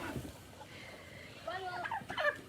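Turkeys gobble in short, warbling bursts toward the end, close by, over a faint background murmur.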